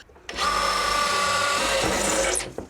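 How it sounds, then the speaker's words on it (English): A power drill with an old bit whines steadily for about two seconds as it bores through a wooden batten, starting abruptly and cutting off near the end, loud and close. "I've fitted an old drill bit and I'm drilling directly through the batten"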